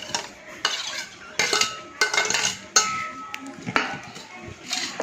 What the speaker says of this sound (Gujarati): સૌ પહેલાં તો આપણે સમારેલી ડુંગળીને આમાં એડ કરીશું